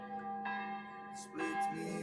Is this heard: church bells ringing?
yes